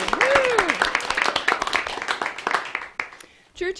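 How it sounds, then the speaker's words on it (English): A studio audience at a storytelling radio and TV show claps and cheers in a lively burst of applause, with a whoop and voices over the top before it fades out. "You deserve a round of applause, too."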